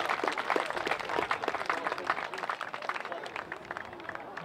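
An air show crowd applauds after a model plane lands, a dense, continuous wash of clapping that stays steady and fairly loud from start to end.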